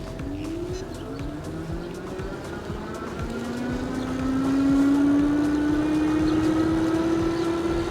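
Electric Bike Company Model X e-bike climbing a steady road incline on throttle, its motor whine rising steadily in pitch over continuous road and wind noise, close and fairly loud with no talking.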